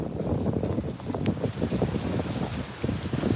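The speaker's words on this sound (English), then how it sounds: "And look how windy it is right now." Strong wind gusting at Rockaway Beach during a severe thunderstorm, a steady broadband roar with buffeting microphone rumble and rain-like patter, continuous and close throughout with no talking.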